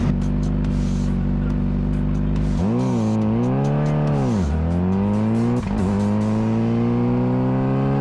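Honda CBR600RR 2024 sport motorcycle ridden on a wet race track, its engine droning loud and close, with pitch sweeping down and up through gear changes and throttle rolls, then settling into a steady high-revving note.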